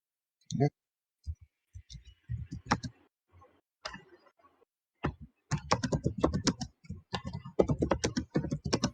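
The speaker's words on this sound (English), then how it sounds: "Your typing is so loud" Rapid clicking of keyboard keys in bursts, close and fairly loud, with brief pauses between flurries.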